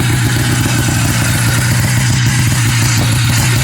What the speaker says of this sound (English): You can hear the clutch pushing, spinning around on it.